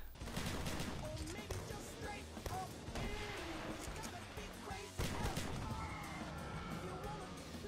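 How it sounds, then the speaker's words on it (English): Automatic laser-sighted shotgun from Call of Duty Black Ops 2 fires in rapid bursts amid dense battle noise, with explosions and other gunfire mixed in and a voice talking over parts of it. "This shotgun, you can see, is an automatic and has 16 shells in the clip."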